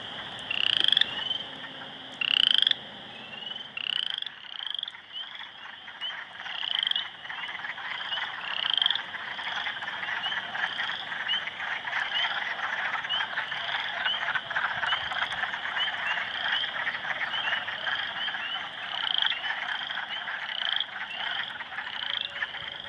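A dense chorus of wood frogs at a vernal pond croaks continuously, with rapid clucking calls layered over one another, close and fairly loud, with no talking.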